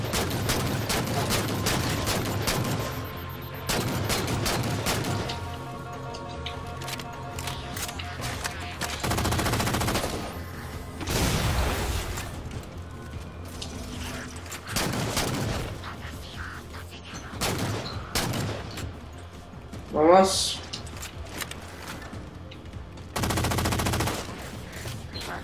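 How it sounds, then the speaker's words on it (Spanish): Automatic and rapid gunfire in a Halo 4 campaign mission, repeated loud bursts and volleys with explosive booms over a continuous game soundscape, no voice over it. "No entiendo cómo mueren de tantos balazos de la AP."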